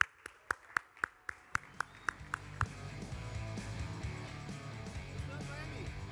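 A dozen sharp, evenly spaced claps ring out close by, then give way to scattered applause and murmuring voices as a speaker heads up to a stage at a branding conference.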